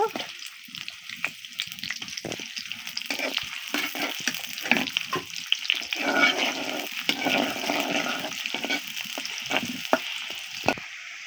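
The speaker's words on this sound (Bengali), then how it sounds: "তেলটা গরম হয়ে গেছে আমি পেঁয়াজ দিয়ে দিচ্ছি" Onions sizzle and crackle in plenty of hot oil over a stove, a dense steady frying hiss with spattering pops and occasional stirring clatter up close.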